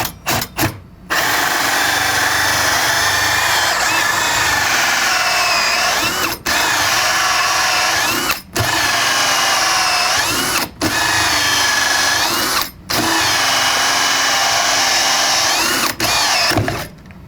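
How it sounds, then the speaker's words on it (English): A power drill grinds through material with a very dull hole saw in long, loud, strained bursts, stopping briefly several times as the bit is backed out and restarted, with no one talking. "I had to back that out a bunch of times and put a lot of pressure just to get that hole drilled"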